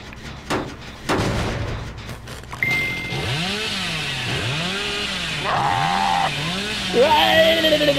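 In a video game, a chainsaw cutting trees revs in repeated rising and falling whines, with sharp knocks and impacts before it starts up and a high tone near the end.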